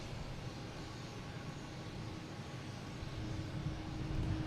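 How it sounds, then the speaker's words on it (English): An Alaska Airlines jet takes off at Boston Logan International Airport, a distant low rumble that builds gradually toward the end, heard faintly from afar under steady outdoor background noise. "we got a Alaskan Airlines taking off"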